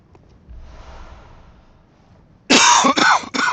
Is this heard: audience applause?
no